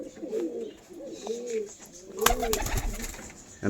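Pigeons kept for sale at home coo in repeated soft rolling calls close by, followed by a burst of rustling or wing noise, with no speech.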